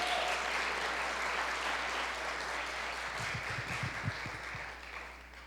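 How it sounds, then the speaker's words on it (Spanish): Applause rises from a church congregation honoring the Lord during a sermon, a steady wash of many hands filling the room, with a few louder individual claps standing out near the end. "Si le va a dar ese aplauso al Señor, déselo con todo su corazón."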